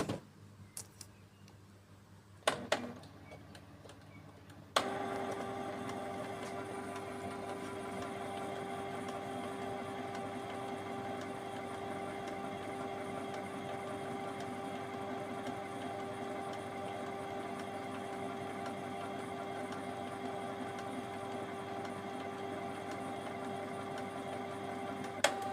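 A Canon G-series inkjet printer (G3420/G3020/G2020 type) powers on and initializes after a quick click, then settles into a steady mechanical whir and hum that continues unbroken and fairly close.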